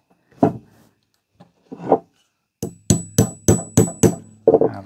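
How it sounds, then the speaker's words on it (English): Two or three scattered knocks, then a rapid run of about six sharp hammer taps on the casing of a flood-damaged Apple 20W USB charger, evenly spaced and close, with a faint ringing tone. "I'm just going to work around like that a little bit with the hammer"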